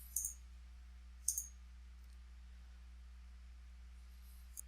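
Two quiet computer mouse clicks, about a second apart, land near the start while someone opens a blank document in Word 2016, with a faint third click at the very end over a steady low hum.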